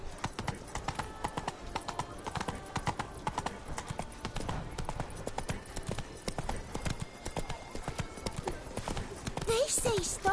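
Hooves of Roach, a horse in The Witcher III: Blood and Wine, beat in a fast galloping rhythm, close and clear, under occasional talk, with a brief whinny-like sound near the end.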